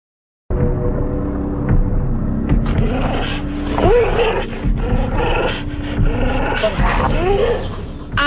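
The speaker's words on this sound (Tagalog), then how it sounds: "ipinakagat dito ang bolang metale at saka hinilap pataas ang bola habang sakmal-sakmal ni Choi." A pitbull growls deeply and continuously while biting a metal ball, loud and close, with snarling surges and a few yelping whines mixed in.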